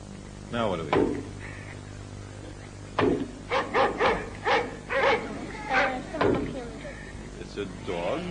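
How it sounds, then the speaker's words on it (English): A domesticated dog barks, first a couple of isolated barks and then a quick run of five or six loud barks close by, against a steady low background hum. "It's a dog."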